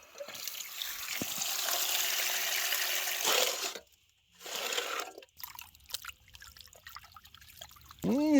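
Water is poured and flushed through a gold sluice system, making a loud rushing splash that stops, returns briefly, then gives way to softer trickling and dripping, with a few scattered handling noises.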